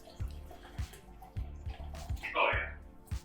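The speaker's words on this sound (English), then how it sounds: "I'm gonna pour out the rest of this baby." Leftover Guinness Draught stout glugs out of a can or glass in a short burst of splashing liquid, after several soft thuds and a voice talking nearby.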